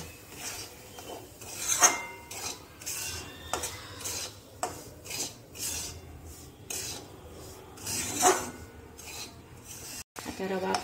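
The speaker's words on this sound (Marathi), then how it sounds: "आता रवा भाजून घेऊया तुपामध्ये, छान गुलाबी रंगाचा येईपर्यंत छान रवा भाजूया." Semolina roasting in ghee in a pan for sweet suji halwa, a spoon stirring and scraping through it in repeated rasping strokes, close and fairly quiet with no talk.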